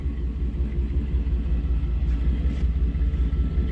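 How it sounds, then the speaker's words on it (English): A 1955 Chevy Nomad restomod with an LS3 V8 idles through Flowmaster exhaust outdoors, a steady, deep, even rumble holding at constant level throughout. "purr of the LS3 through the Flowmasters"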